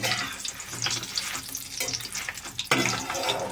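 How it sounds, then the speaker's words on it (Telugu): Dried red chillies frying in oil in a pan, a soft continuous sizzle with light crackles and stirring scrapes, close and fairly quiet. "ఎండుమిరపకాయలు వేపుకోవాలి"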